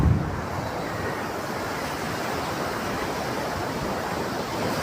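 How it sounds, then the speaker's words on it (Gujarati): Rough sea at Diu beach roars in a continuous, loud wash of surf, with wind buffeting the microphone throughout. "અરે દરિયો ભાઈ ખરેખર ગાંડો થયો છે."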